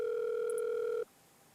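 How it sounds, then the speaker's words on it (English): A telephone line rings once with a steady two-tone electronic burr lasting about a second, then cuts off abruptly into quiet line hiss. "the line finally rings"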